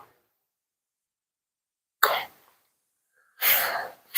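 A pastor coughs twice during a Sunday morning church service, each a sharp, close burst separated by quiet, with no one speaking.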